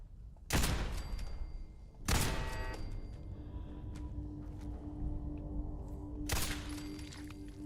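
Gunfire from gunners and turrets in Fallout 4 during a settlement battle, with three loud sharp shots spread apart over a low, continuous background rumble, and no talking.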